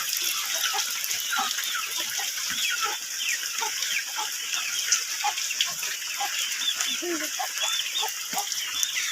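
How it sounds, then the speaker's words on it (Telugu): Steady rain falls on a farmyard by a collapsed buffalo shed, making a continuous close hiss while chickens cluck and chirp now and then. "వర్షం పడుతుంది"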